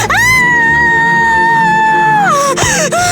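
A girl lets out a loud, sustained scream that holds steady for about two seconds, then breaks off into shorter shrieking bursts, close and piercing in a dark old mansion setting.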